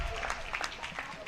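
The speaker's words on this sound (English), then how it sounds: "Round of applause from the crowd here in Copenhagen" A crowd at a high school girls' basketball game in a Copenhagen gym gives a short, moderate round of applause, with scattered claps and murmurs blending under a commentator's voice.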